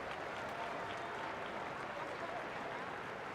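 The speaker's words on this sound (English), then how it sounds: "Ripple of applause for India's 150" A soft ripple of applause from the crowd at a women's England v India cricket match at Lord's, a steady diffuse wash of distant clapping with no distinct individual claps, faint and even throughout.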